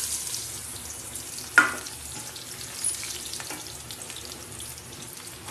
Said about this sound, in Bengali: পেঁয়াজটা এবার দিয়ে দেবো তেলের মধ্যে